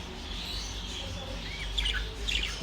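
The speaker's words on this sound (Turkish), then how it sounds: "Kuşlarımız garantili kuşlardır." Rainbow lorikeets kept by a breeder, giving a few quick, shrill chirps and squeaky calls over a low background hum, fairly faint and close.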